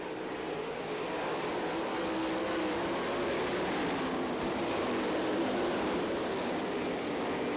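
Sprint cars racing at the Knoxville Nationals, a steady, dense roar of several engines in the middle distance that holds without a break.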